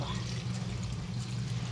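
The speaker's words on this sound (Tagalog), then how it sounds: "So yan, lagyan natin ng tubig. Dahil tuyo na siya." Water is poured into a small, dried-out cooking pot (kaserola), making a steady, continuous splashing pour with a low rumbling body, close and moderately loud throughout with no speech.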